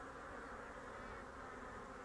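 Honeybees from a thriving hive colony in East Sussex buzz in a steady, dense drone, a continuous faint hum of many insects with no talk.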